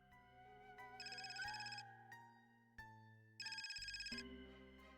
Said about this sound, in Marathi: फोन वाजतोय.